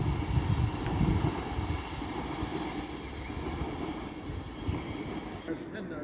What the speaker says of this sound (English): Now coming down is another Avanti West Coast Class 390 running from Manchester Piccadilly to London Euston.